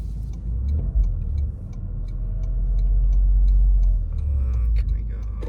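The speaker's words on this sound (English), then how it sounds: "Let's hear that turbo spool." A 2024 Toyota GR Corolla drives with a steady low engine rumble and turbo spool that swells toward the middle, heard from inside the cabin, with brief ticks and passengers talking quietly over it.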